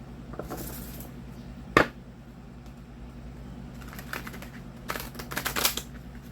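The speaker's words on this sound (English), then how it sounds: "I'm trying to shuffle." Cards riffle and flap in short bursts, with a sharp snap early on and a flurry of quick shuffling toward the end over a faint steady hum.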